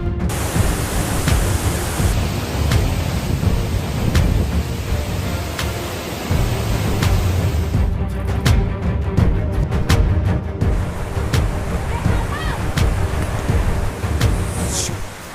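A steady, powerful roar of rushing water fills the whole clip, broad and constant like a large waterfall heard from nearby, during the monsoon at Umbrella waterfall, Bhandardara.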